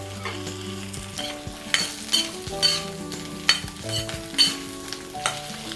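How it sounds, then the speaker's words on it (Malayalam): Four okra pieces sizzle in hot coconut oil in a pan for sambar, a steady close frying hiss broken by several louder spatters and stirring scrapes, with no talking. "എന്നിട്ട് നമ്മൾ ഈ വെണ്ടയ്ക്കൻ ഇതിൽ ഇട്ടാൽ മതി"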